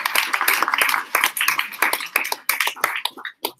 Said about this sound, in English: Big round of applause for Jenna.